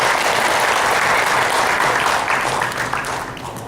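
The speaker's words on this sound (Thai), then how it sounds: "ขอเสียงประมือต้อนรับคุณหมอด้วยค่ะ" An audience at a knee health seminar claps together in a dense burst of applause welcoming a doctor, loud at first and slowly thinning toward the end.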